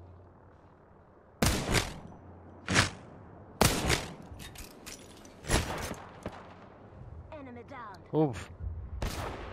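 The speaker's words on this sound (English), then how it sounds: "Listen up, I'm getting shot at." Gunfire in the shooter video game Apex Legends comes as several sharp, loud shots and short bursts spaced a second or two apart, with a brief grunt from a voice and a crackling electric effect near the end.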